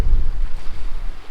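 Wind gusts over open water near the shore, a steady low rumble and buffeting on the microphone mixed with soft surf, continuous and close throughout with no talking.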